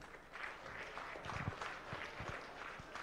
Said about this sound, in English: one big round of applause to our prime sponsor, Kids Up, ladies and gentlemen